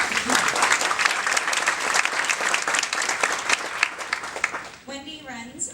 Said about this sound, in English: Let's give Wendy a round of applause.